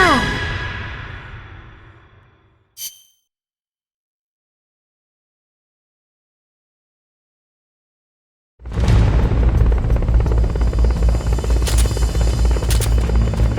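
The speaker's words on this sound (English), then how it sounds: "First, you gotta do something about that chopper." A helicopter in the video game Metal Gear Solid Peace Walker on Xbox: a rotor roar fades out and is cut by a brief sharp hit, then silence, then a loud, steady, close chopper drone returns.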